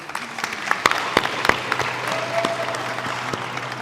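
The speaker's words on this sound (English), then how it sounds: "round of applause" Scattered applause from a conference audience in a main hall at a summit, sharp distinct claps from a modest number of people, fairly faint over a roomy background.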